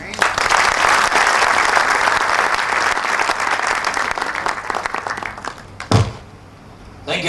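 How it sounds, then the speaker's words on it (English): A large audience at an event claps in a loud, dense round of applause that holds steady for several seconds, then thins out and fades toward the end. "Can we have a bigger round of applause for Kumar Toshniwal?"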